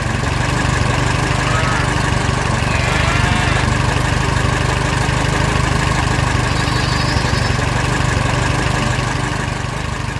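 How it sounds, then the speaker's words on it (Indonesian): A tractor engine runs steadily throughout, a loud continuous mechanical drone with a strong low hum and no pauses or talk. "Traktor dan alat berat yang misterius bergerak bersama."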